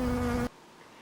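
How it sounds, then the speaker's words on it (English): Garden bee buzzing around a flower: a loud, close, steady droning hum that lasts about half a second and then cuts off abruptly into near silence. "Do you hear the sounds of the bee moving around the flower?"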